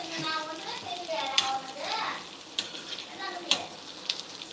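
Plantain slices fry on a dosa griddle with a constant crackling sizzle, punctuated by several sharp metallic clinks of a utensil, while someone talks quietly over it.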